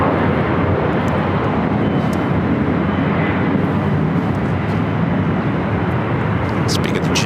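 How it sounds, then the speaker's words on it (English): An Asiana Airbus A380 takes off on runway 24 left at LAX, its jet engines roaring loud and constant from a distance while a voice talks over it. "A380 Super heading up here to the north side for a takeoff on 24 left"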